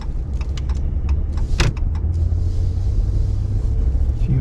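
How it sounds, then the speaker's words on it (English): Town traffic in Bar Harbor, Maine, in December: a steady, fairly loud low road rumble of cars, with a few brief clicks and rattles near the start and no voices. "traffic's pretty bad"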